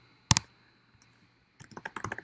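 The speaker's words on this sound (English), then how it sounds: "I'm typing 3 things at once" A few quick computer keyboard keystrokes while coding in Visual Studio Code: one sharp double click near the start, a long quiet gap, then a brisk run of soft taps toward the end, close and fairly quiet.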